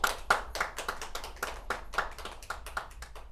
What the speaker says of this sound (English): Audience, please give them a round of applause.